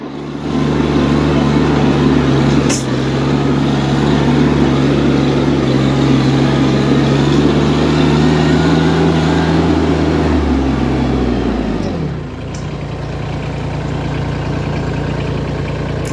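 A TYM 224 sub-compact tractor engine runs steadily at a loud, even idle for about ten seconds, then drops in pitch as it slows and settles into a lower, quieter hum.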